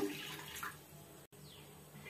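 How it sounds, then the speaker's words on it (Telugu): A glass of water poured out while making halwa as an offering, heard as a soft, faint splashing pour at the start that fades into a quiet room hush, with a brief dropout midway and no speech. "గ్లాస్ నీళ్లు పోసుకున్నాను."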